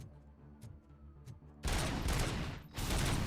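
Heavy bursts of gunfire from Robocop Rogue City, a burst of loud shots slamming in after a quieter stretch and continuing densely to the end, with a few sharp isolated cracks before.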